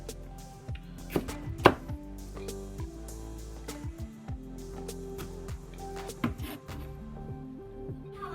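A knife chops mini sweet peppers on a cutting board, a steady run of close, crisp taps at an irregular pace with a couple of louder knocks, under a low steady hum and without talk.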